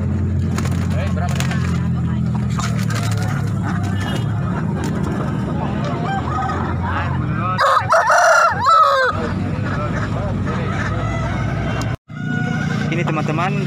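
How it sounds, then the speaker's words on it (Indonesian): Pama chickens and roosters at Daya market in Makassar, with crowing and clucking throughout a busy, noisy market scene; people talk nearby and a brief louder burst of activity comes near the middle. "saya mendapati ayam jenis Pama"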